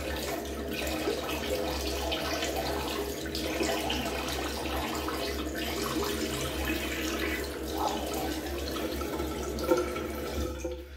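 Cold water runs steadily from a tap into a sink during a shave with a safety razor, a constant close hiss and splash with faint ripples and no voices.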